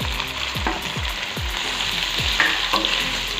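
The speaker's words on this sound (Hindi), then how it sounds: "1 से 2 मिनट जो है अच्छे से भून लेंगे।" Boiled, cut potatoes frying in a pan for jeera aloo, a loud, steady sizzle close by, with the spatula stirring and scraping in repeated strokes throughout.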